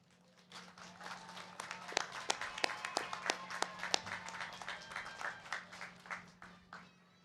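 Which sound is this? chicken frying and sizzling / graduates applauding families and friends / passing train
graduates applauding families and friends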